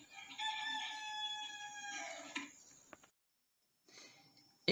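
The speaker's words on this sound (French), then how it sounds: "Que les coqs de Saint-André-de-Valborgne se rassurent, ils devraient pouvoir continuer à chanter" A rooster in a French village crows close and clear in one long call, followed by quieter clucks and a brief second burst after a short silence.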